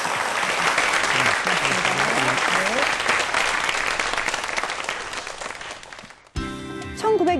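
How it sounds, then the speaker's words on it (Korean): An audience claps loudly and continuously to welcome rocket scientist Dr. Park Jeong-ju to a talk. The applause fades out near the end and gives way to a brief musical passage. "여러분 큰 박수 부탁드리겠습니다"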